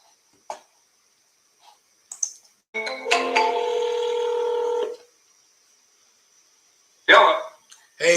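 Phone keypad dialing tones from placing a call: a few scattered beeps, then a steady two-second tone, a pause, and another short burst of beeps near the end, all fairly clean and close.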